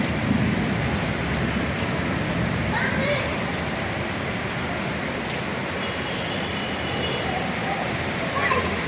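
Heavy rain pours steadily at night in Manila, a dense, continuous hiss of downpour on surfaces that stays loud and even throughout.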